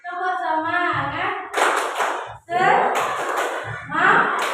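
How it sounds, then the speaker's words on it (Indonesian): Primary school teachers at SD Negeri 4 Setail do a rhythmic group spirit clap, with bursts of patterned hand claps alternating with a leader's voice and the group answering. "Ya, sekali lagi coba. Tepuk semangat."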